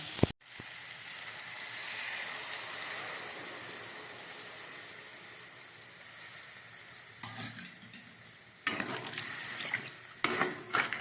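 A pumpkin and potato curry sizzles loudly in the pan as water is poured in, a sharp hissing burst that gradually settles, followed by clattering stirring and scraping toward the end.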